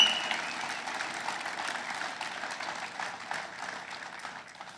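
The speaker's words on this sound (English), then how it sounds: "while you're still clapping" A crowd applauds after a Mike Pence speech at a Michigan manufacturer, steady dense clapping that starts strong and gradually fades over a few seconds.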